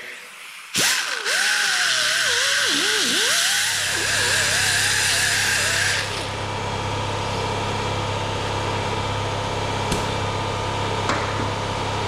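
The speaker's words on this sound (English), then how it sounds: "Then we buff it." A power tool whirs close by while buffing a rubber surface after prep: a brief rising and falling whine settles into a steady motor drone that holds for several seconds, then fades to a low hum with a couple of faint clicks.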